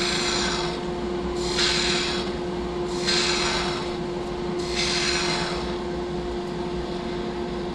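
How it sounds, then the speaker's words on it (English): Tool cutting wood away from a spinning turned piece on a lathe, a steady motor hum under four rhythmic rasping scrapes of the cut, close and with no talk. "I need to remove some wood here and allow my pen some access to the underside of this top"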